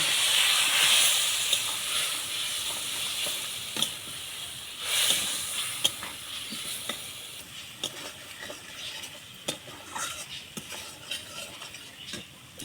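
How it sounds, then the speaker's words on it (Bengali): Spices with turmeric fry in a pan, giving a loud, steady sizzle and hiss that fades gradually, over which a spoon scrapes and clinks against the metal in quick, irregular strokes; no one speaks. "মশলা ভাজা ভাজা হয়ে গেছে"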